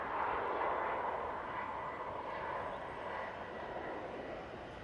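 A Turkish Airlines plane in Star Alliance livery passes at Manchester Airport, its distant engine roar a broad, steady wash that fades slowly over a few seconds.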